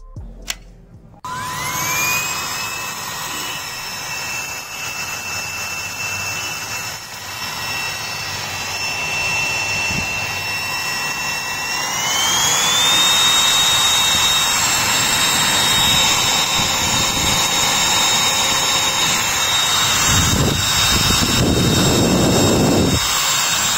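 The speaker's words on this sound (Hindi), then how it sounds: "ये बिल्कुल जेट इंजन की तरह आवाज़ कर रहा था ना क्योंकि इसकी स्पीड भी बहुत हाई है" High-speed DC motor of a battery-powered wireless vacuum cleaner, run opened up, spins up with a rising whine, then settles into a loud, steady jet-like howl that continues without pause.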